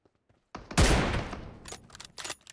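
A burst of gunfire from a combat video game rings out in a rapid fusillade, sharp and loud, then trails into scattered shots and rattling echoes.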